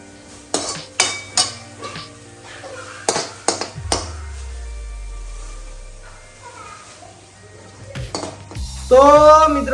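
A spoon knocks and scrapes roasted fresh turmeric out of a pan into a bowl, a series of sharp metallic clacks and clinks separated by quieter stretches, with a low hum and a final rattle.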